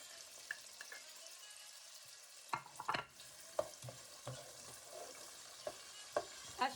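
Garlic and onions sizzling in a pan for shrimp sinigang, a steady soft frying hiss broken by several sharp stirring scrapes and knocks, fairly quiet and close, with no talking.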